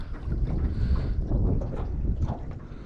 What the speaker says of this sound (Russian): надвигается дождь, надвигается сильный ветер